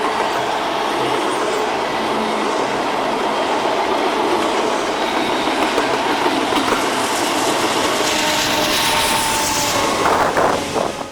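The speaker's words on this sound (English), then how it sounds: "We'd get to the bridge over the transcon and be met with a -9 DPU on an intermodal." A freight train on an intermodal run with a distributed power unit passes close by a bridge on a mainline. It makes a continuous loud rumble with steady wheel clatter and faint squeals for the whole stretch.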